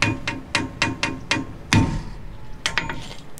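A farrier hammers a horseshoe branch on an anvil: about six sharp, ringing metallic strikes in quick, even rhythm, a heavier blow, then a few lighter taps, all close and clear.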